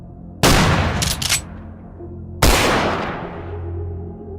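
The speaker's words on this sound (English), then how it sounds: "he fired 2 close-range shots directly into Colin's abdomen" Two loud, close-range gunshots, spaced about two seconds apart, each a sharp blast that rings out and slowly decays.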